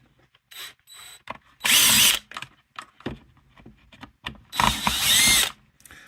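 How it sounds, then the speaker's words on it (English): A power drill backs two Phillips screws out of a Turbo ready heater's circuit board, with two loud bursts of whirring separated by softer clicks and handling noises, close up, with no voices. "I don't like wasting time. I like using my drills."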